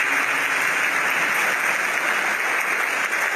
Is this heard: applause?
yes